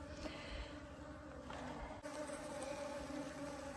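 Honey bees buzzing in a hive box during a removal and relocation, a close, dense, continuous drone of many insects at a fairly low level, no voices.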